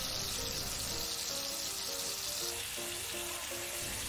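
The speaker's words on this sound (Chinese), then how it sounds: "就可以反转另一边继续煎佢啦。" A Kyoto-style pork chop sizzles steadily in the pan after being turned to cook its other side, an even, close frying hiss over soft background music, with no talking.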